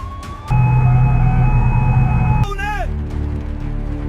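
A loud siren holds a steady wailing tone for a couple of seconds, then drops away in falling sweeps, with a low rumble beneath.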